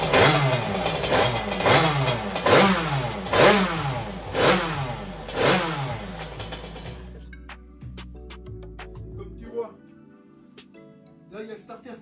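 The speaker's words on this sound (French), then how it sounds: "Juste la fait tourner 2 minutes pour que tu entendes le bruit." A Derbi moped with a Stage 6 engine, running too rich on a 130 jet with the choke on, revs in rough repeated surges, sputters and then stalls into near silence, with faint clicks afterward.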